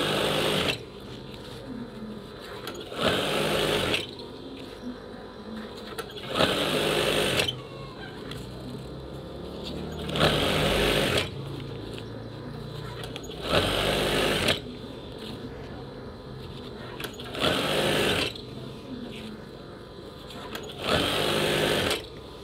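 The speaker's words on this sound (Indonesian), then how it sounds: "Kita jahit ya." A sewing machine stitches curtain fabric for an eyelet heading, running in repeated bursts of a few seconds each with short pauses between, close and steady, with no voices.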